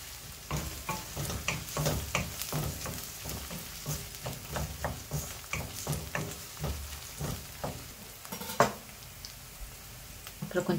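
Chopped garlic sautés in a pan for vendakkai puli kulambu. A soft sizzle runs under repeated spatula scrapes and stir strokes that come in an uneven rhythm, close and moderately loud.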